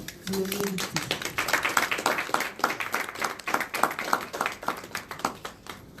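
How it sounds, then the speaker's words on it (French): An audience at a talk applauds itself, a lively burst of many hands clapping close and fairly loud, steady for several seconds before thinning at the end. "je vais vous demander de vous applaudir"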